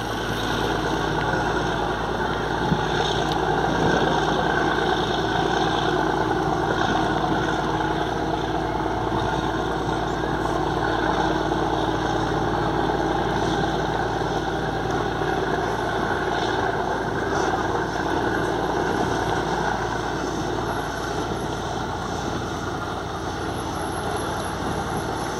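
A Yamaha marine engine of 829 HP on a motor vessel, a steady loud droning hum with a constant tone and no breaks, running throughout with no voices.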